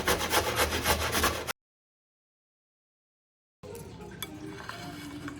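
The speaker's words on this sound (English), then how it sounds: "On the smallest side right here, this one. I'm gonna grate my carrot." Carrots scraped across the smallest side of a box grater in quick, rough, rhythmic rasping strokes, then a silent gap, followed by softer scraping and light clinks.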